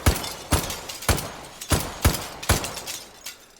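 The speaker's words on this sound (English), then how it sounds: "Never get tired of shooting the glass there" Gunshots shattering glass targets at a shooting range in the VR game Hot Dogs, Horseshoes and Hand Grenades, seven or eight sharp, loud cracks with tinkling breakage, spaced about half a second apart.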